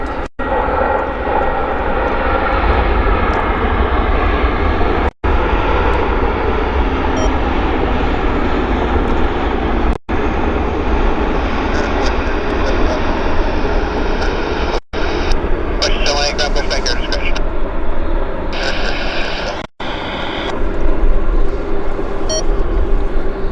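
An Icelandair airliner rolls at Vancouver airport with a steady loud jet engine roar that holds throughout, a faint whine rising toward the end, and nobody speaking over it.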